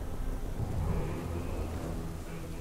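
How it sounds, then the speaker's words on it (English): A thunderstorm rumbles in the fantasy video game World of Warcraft Dragonflight, with a low continuous roll of thunder and a wash of rain-like noise, loud and unbroken throughout. "A storm."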